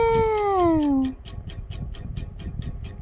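A small kitten lets out one long, clear meow that slides downward in pitch, close to the microphone, followed by soft rustling and quiet handling noises.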